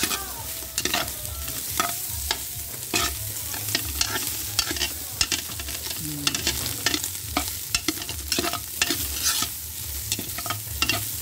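Meat frying in a pan as its fat renders out, a steady crackling sizzle broken by frequent sharp pops and scraping stirs, with no talking.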